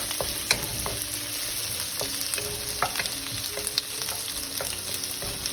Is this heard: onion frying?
yes